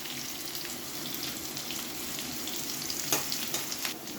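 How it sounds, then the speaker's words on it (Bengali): Potatoes frying in hot oil with whole tempering spices give a steady, close sizzle with light crackle and a few brief stirring scrapes near the end. "ফোড়নের সঙ্গে আলুটা ভাজলে আলুটার একটা সেন্ট টেস্ট আলাদা আসে, এই জন্য ফোড়নটা দিয়ে আলুটা ভেজে নিলাম।"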